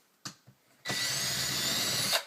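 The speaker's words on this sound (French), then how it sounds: "Ma cheville à placo, il faut la dévisser." A power drill unscrews a plasterboard wall anchor while a curtain rod is being put up. Two short taps come first, then one loud, steady whirring run of about a second and a half, close up, with no talking.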